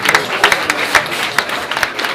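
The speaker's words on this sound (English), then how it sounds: "Give him a round of applause" Audience applause at a film event fills a hall with a steady patter of many hands clapping, close and lively, with sharper individual claps popping through.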